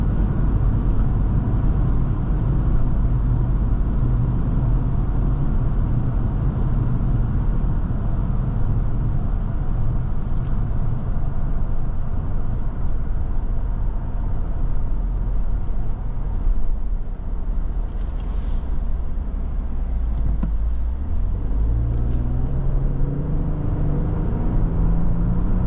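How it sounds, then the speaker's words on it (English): Steady wind and road roar inside a 2024 Lexus GX550 fitted with a roof rack, a constant broadband rush under low engine hum, with a rising engine tone near the end. "can hear a little bit of the wind noise because of the roof rack up there"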